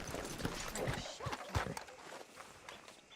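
Horse hooves clip-clop in a western video game, a fairly quiet run of uneven, hollow thuds from a walking horse with some background rustle and no clear talk.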